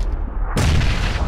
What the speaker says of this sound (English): Oh wow, that was a nade.